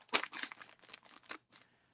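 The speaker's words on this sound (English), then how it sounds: "I'm just going to cut straight across." Scissors cut straight across crinkly cardboard box packaging in a few quick, close, soft crunching snips.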